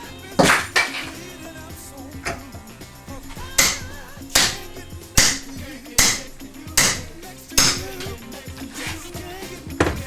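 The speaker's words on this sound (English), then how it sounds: "as you can see, we tapped our extension all the way in" A hammer taps an extension into a Honda CB360 motorcycle swing arm with about ten sharp, evenly spaced metallic strikes close by, with no talk over them.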